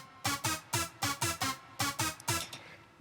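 Heavily compressed synth stabs through Core Compressor's Loudness Wars 2008 preset in a hard techno context: about nine punchy, dense bursts in a driving rhythm, each swelling and cutting off sharply.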